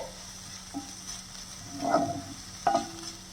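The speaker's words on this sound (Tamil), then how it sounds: "வெங்காயம் ஓரளவுக்கு வதங்கிடுச்சு." Onions frying and being stirred in a pan for pepper chicken, a soft low sizzle with a couple of brief stirring scrapes, nearby and quiet, with no talk.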